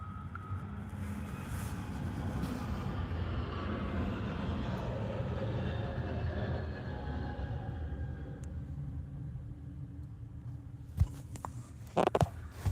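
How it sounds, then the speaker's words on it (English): An Airbus A321neo taking off at Ted Stevens Anchorage airport, heard as a steady, broad jet roar at moderate distance that holds for most of the stretch and then fades, with a few sharp knocks near the end. "It's an Airbus A321neo, so probably lift off right there."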